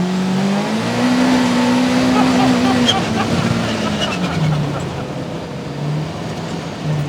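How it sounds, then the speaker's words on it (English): A 2026 Kawasaki Teryx5 H2 supercharged side-by-side pulls away in full power mode and high range, its engine note rising steadily and loud, then settling into a sustained roar as it gathers speed. "We're going to put it into full power mode, and let's feel it."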